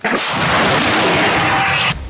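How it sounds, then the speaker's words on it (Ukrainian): A loud, sustained burst of gunshot blast or fire noise, dense and roaring for about two seconds before cutting off abruptly. "Постріл!"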